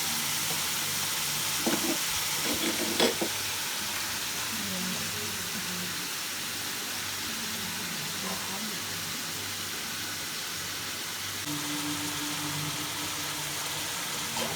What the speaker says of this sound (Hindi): अब थोड़ा सा इसको मैं फ्राई कर रही हूँ